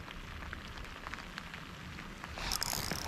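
Rain blowing through over a fishing spot falls as a steady patter and hiss, growing slightly louder toward the end, with no voices.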